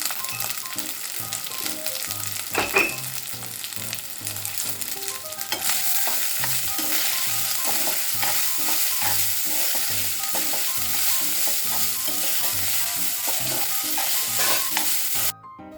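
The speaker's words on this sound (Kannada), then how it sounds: "ಉಪ್ಪು ಹಾಕಿಬಿಟ್ಟು ಚೆನ್ನಾಗಿ ಮಿಕ್ಸ್ ಮಾಡಬೇಕು ಅದನ್ನು" Garlic dal sizzles in a pan as it is stirred after salt goes in, with a continuous frying hiss and repeated scraping and tapping of a spoon, close by, then abruptly stopping at the end.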